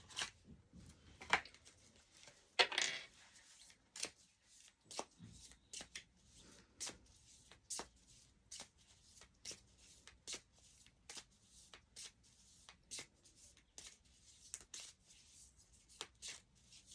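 A deck of oracle cards being shuffled by hand, with repeated quick crisp riffles and flicks close up, spaced irregularly over a quiet background.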